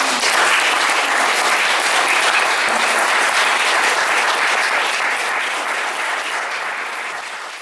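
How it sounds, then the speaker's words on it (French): Audience applause at a literary conversation event, a loud, dense and sustained burst of clapping from a seated crowd that gradually fades toward the end, with no talking over it. "Je propose qu'on applaudisse Pierre."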